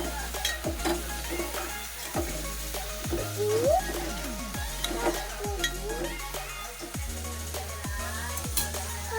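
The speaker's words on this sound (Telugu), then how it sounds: "అల్లం వెల్లుల్లిపాయ పేస్ట్ అయితే వేసేసుకున్నాను ఇందులోను. ఒకసారి బాగా కలుపుకుని" Ginger garlic paste sizzles and fries in a pan while a spoon stirs it, with repeated scraping strokes and light metal clinks over a steady sizzle, close and moderately quiet, with no talking.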